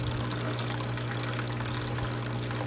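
Water pours steadily from a container during a fish-room unboxing with shrimp and plant debris, a continuous soft gushing splash with a low hum beneath, faint and unbroken throughout.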